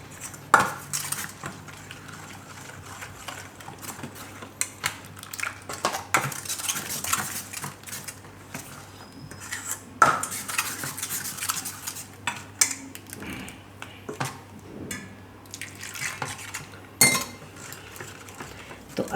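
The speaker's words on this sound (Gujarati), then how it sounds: "થોડુંક પાણી નાખીને પહેલાં મિક્સ કરી લેવાનું આ રીતે." A spoon clinks and scrapes around a bowl as besan batter is stirred with added water for aloo pudla, giving steady soft swishing with occasional sharp metallic taps, close and fairly quiet.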